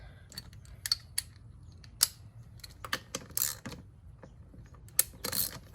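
A wrench tightens fan clutch bolts on a first-generation Nissan Xterra, giving faint irregular ratcheting clicks and small metallic taps close by, without talk.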